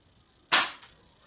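A single sharp pop of a Nerf toy blaster firing a foam dart, close and fairly loud, with a short tail after it and a faint second thud, otherwise quiet.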